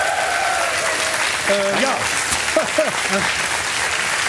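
A German studio audience at a satirical TV comedy show applauds steadily throughout, a dense sustained clapping with brief voices rising over it.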